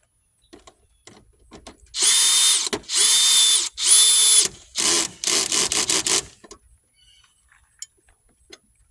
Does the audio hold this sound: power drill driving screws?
yes